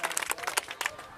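Audience clapping along at a roadside snake show near a temple, a quick burst of scattered claps with mixed voices, fairly faint and brief.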